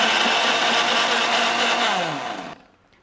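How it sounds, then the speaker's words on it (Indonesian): A kitchen blender whirs steadily, loud and close, chopping turmeric with water for homemade jamu, its motor pitch sliding down as it spins to a stop near the end. "Untuk blender kunyitnya tidak perlu terlalu lama ya."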